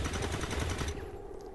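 Rapid burst of gunfire in the XCOM 2 video game, a quick string of sharp shots close up and fairly quiet in the mix, trailing off after about a second.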